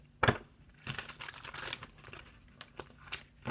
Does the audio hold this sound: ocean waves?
no